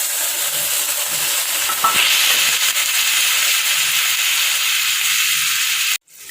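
Small fish sizzle in a pan while being stirred and cooked down, a loud, continuous frying hiss with faint scraping. It cuts off abruptly near the end.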